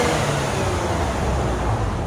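Stock exhaust on a 2018 Lexus RC 350 V6, a steady low engine drone held at elevated revs, close and continuous with no talking.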